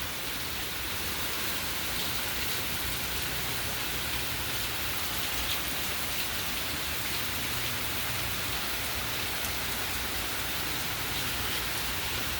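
Heavy rain from Hurricane Francine in 2024 falling steadily outdoors, a constant, dense hiss of rain on surfaces with no letup and no voices.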